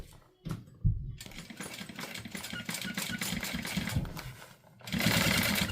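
Sewing machine top stitching vinyl an eighth of an inch from the edge, keeping a gusset clear. A steady mechanical whir runs close and continuous for most of the stretch after a few brief starts.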